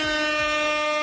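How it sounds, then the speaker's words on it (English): An air horn sound effect blares as one loud, sustained, steady tone with a bright, buzzy stack of overtones, held unbroken for about a second. "I got to go ahead and drop these air horns right here"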